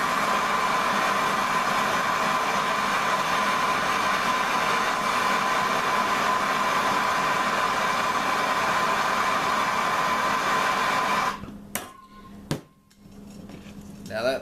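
A micro torch roars steadily and loudly as it heats metal, the hiss holding constant for about eleven seconds before cutting out, followed by a few sharp metallic clicks and taps.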